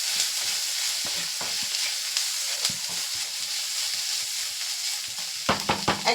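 Eggs mixed with spices fry in a pan, a steady close sizzle broken by repeated scraping stirs that grow sharper and louder toward the end.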